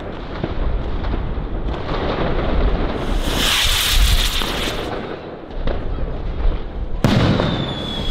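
Rocket firework arrows (pijlen) exploding overhead on New Year's Eve, a run of loud booming and crackling bursts with a sharp close bang near the end, sustained and forceful.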